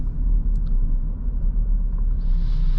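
A 2022 Ford Explorer SUV cruises along, its cabin filled with a steady low engine and road rumble. The drone holds at an even level, with faint ticks over it and no voices.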